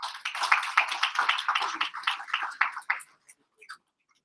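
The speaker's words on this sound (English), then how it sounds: "Can we give her a round of applause?" Brisk audience applause at an indoor training session, a dense run of claps that quickly tapers off into a few scattered final claps and silence.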